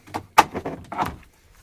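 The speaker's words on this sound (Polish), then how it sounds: "I są otwierane drzwi." A door being opened on a garden storage box or cabinet with a gas-strut lid, giving a short series of clunks and a rattling latch, loud and close, with no voices.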